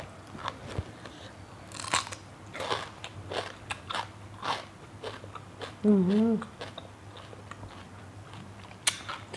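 Close, loud crunching and chewing of Thai spicy raw beef koi dressed with lime, with repeated wet bites through the clip and a brief hum from the eater around the middle.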